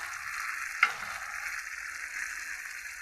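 Tomato paste hits hot fried spices in a pan with a sudden splash, then settles into a steady, bright sizzle that runs on evenly, close by and uninterrupted by talk.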